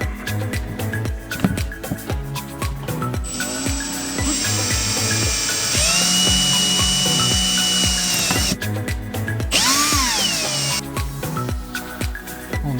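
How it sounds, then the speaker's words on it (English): A power drill whines loudly in sustained bursts, pitch rising and dropping as it bites into a boat's exhaust system, with brief pauses between runs and steady background music. "Let's drill some holes."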